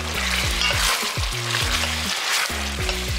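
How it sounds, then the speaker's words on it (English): Mutton sizzling steadily in a hot pan with cumin powder, coriander powder and salt being stirred through, a continuous loud fry punctuated by repeated scraping strokes of a spoon against the pan. "Give it a nice mix."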